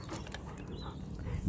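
A young dog, still a pup of about a year and a half, whimpers softly outdoors during a walk, the faint whine sitting over a steady rumble of wind and ambient noise.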